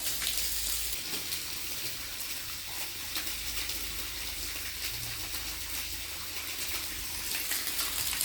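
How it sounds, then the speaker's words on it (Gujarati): Continuous loud rush of water gushing from a running motor pump, steady throughout, with a faint mechanical hum underneath. "તો ગાઈસ મોટર શરૂ થઈ ગઈ છે. પાણી આવી ગયું છે"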